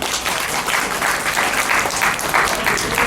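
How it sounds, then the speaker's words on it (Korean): A crowd applauding steadily aboard a boat at Yeouido Hangang Park, dense clapping from many hands filling the whole moment without a break. "여러분 박수 부탁드리겠습니다"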